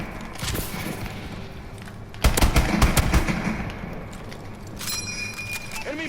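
M1 Garand gunfire in the video game Call of Duty Advanced Warfare sounds as a quick burst of several sharp shots near the middle, followed by a metallic ping, over a steady game-ambience rumble.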